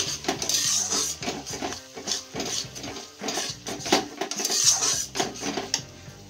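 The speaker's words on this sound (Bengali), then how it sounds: "এবার আমি একটু ম্যাগি মশলা দেব। মশলাগুলো ভালো করে মিক্সিং করব।" A metal spoon scrapes and clinks steadily against a pan while spices and Maggi masala are stirred together for an egg tadka, loud, close and rhythmic, with no speech.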